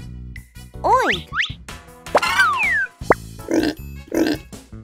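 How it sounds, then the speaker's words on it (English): Cartoonish pig oinks and grunts in a children's animal vocabulary sequence, several short snorting calls mixed with playful sliding boing and plop effects. "A pig makes a oink sound."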